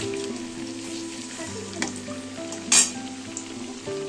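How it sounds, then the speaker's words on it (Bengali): Balls of potato, carrot and beet in gram flour batter frying for burger filling, a steady close sizzle of hot oil broken by a couple of brief clinks, with no speech. "আর এখানে ভেজে নিচ্ছি বার্গার বানানোর জন্য"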